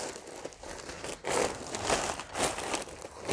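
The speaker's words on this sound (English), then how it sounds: "And then from here, I'm gonna wrap it just one more time." Paper crinkled and folded around a potted plant to pack it for shipping, a few close bursts of crumpling and rustling in uneven waves.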